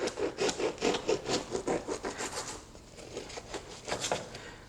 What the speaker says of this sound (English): So now after I have that cut, I cut it from the top like this.